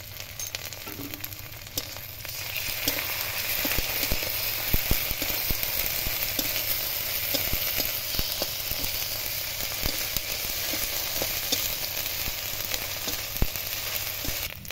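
Cumin, ginger paste and coriander sizzle steadily in a hot pan, a loud continuous frying hiss with occasional crackles and no talking.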